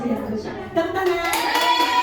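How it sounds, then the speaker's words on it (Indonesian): A class of children clapping their hands together, with the applause building after a short pause and mixed with voices. "Tepuk tangan."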